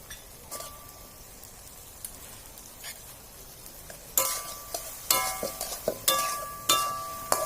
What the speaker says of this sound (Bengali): এখন এই যে আমার বেটে রাখা জিরে দিয়ে দিচ্ছি।